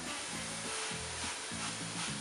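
Mbourekia, egg rolls wrapped in phyllo, frying in a pan, giving a steady close sizzle throughout with low bubbling underneath and no talk.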